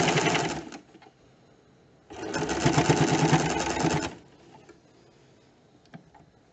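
A sewing machine stitches the placket on a kurta sleeve, running in two loud, steady bursts of rapid mechanical stitching, the second longer, with quiet handling pauses between.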